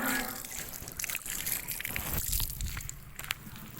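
Hands are washed under running water outdoors, making an uneven splashing trickle and slosh up close with bursts of heavier flow and faint background noise.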